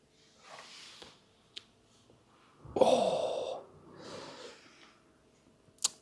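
Deep inhale during a breathwork exercise in a movement and visualization meditation session: a strong, close breath in at mid-clip, with softer breaths before and after and a sharp click at the end.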